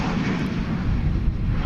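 An airliner takes off at night at DFW Airport, a loud, continuous roar of jet engines dominated by deep rumble.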